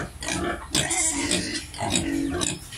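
Native pigs, including a sow, grunt close by in short, loud, overlapping bursts.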